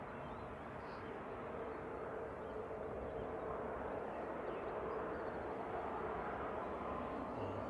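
A Qatar Airways airliner at Manchester Airport gives off a steady, broad engine roar, loud and unbroken throughout, with no talk.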